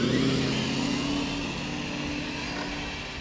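A Traxxas TRX4 RC truck with bigger tires running in high gear, its electric motor a steady, loud whine with a continuous hum from start to finish.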